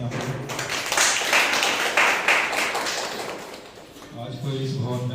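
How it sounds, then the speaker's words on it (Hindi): Church congregation applauding during a Sunday service, a dense burst of clapping that swells and fades over a few seconds before a voice speaks over a microphone. "आइए हम उस परमेश्वर के प्रेम के लिए जोरदार तालियां करें।"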